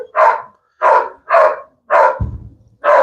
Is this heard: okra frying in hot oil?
no